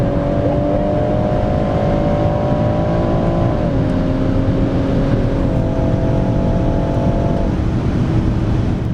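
BMW M140i at full throttle on a 100 to 200 mph run, a loud steady engine roar with tones stepping through gear changes, continuous for the whole stretch.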